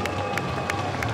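At a European Championships recurve archery mixed team bronze final between Ukraine and Turkey, a crowd roars loudly and steadily, with a rhythmic clapping or stamping pulse running underneath.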